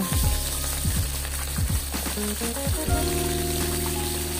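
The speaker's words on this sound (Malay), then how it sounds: "goreng ikan dulu" Mackerel sizzling and crackling steadily in hot oil in a wok, with a few clinks and scrapes of a utensil against the pan.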